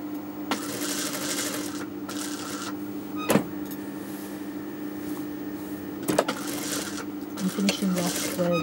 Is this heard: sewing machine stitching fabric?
yes